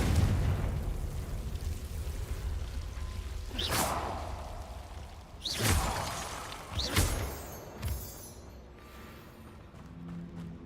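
Several Confringo blasting spell explosions in the video game Hogwarts Legacy burst out one after another, each a sharp whooshing blast with a short rumbling tail, fairly loud over a steady background of game ambience.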